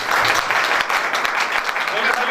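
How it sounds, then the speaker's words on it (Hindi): A church audience at a Holy Thursday service in Islamabad breaks into loud, dense clapping, with a voice speaking over the applause. "एक दफ़ा अपने लिए ज़रा ज़ोरदार तालियां।"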